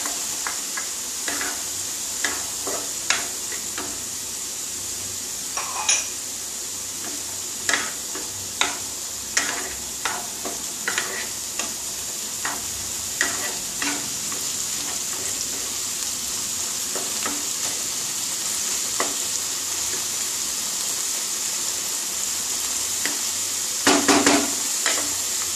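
Tomatoes fry in a hot pan for a Bengali fish roe fritter curry, giving a steady close sizzle. Scattered spoon scrapes and taps recur throughout, and a louder clatter comes near the end, with no talk.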